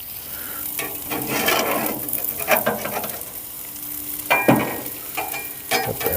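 Breakfast sandwich fillings sizzle and fry on a gas griddle in a continuous close hiss, with scattered scraping and clicks of a spatula cutting through now and then.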